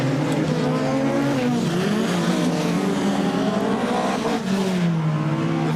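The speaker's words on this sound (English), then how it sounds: "The variety of engine noise in open two-wheel drive is just really very cool indeed." Rallycross race cars in the open two-wheel-drive class roar at a round in Arvika, Sweden, engines revving hard with shifting pitch and tires squealing, loud and continuous with no talk.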